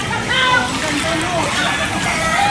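Flood seawater at high tide sloshes and splashes against a hut's fence, a steady close churning wash with voices talking over it throughout.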